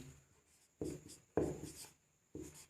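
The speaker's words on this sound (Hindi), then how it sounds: "अब मैं एक सेंटेंस लिखता हूँ," A sentence is written by hand, pen or chalk scratching in short strokes, with about four distinct scraping bursts separated by pauses, close and quiet.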